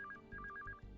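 A telephone rings faintly with repeated electronic ringtone bursts in a short indoor scene, quiet and somewhat distant under low background noise.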